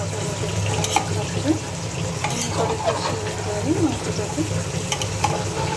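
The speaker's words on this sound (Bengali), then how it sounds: "আলু ভেজে নিচ্ছি পাশে আলুটা ভেজে নিচ্ছি" Potatoes fry in a pan beside a pressure-cooked meat dish, a loud continuous sizzle with occasional stirring clatter and soft background voices.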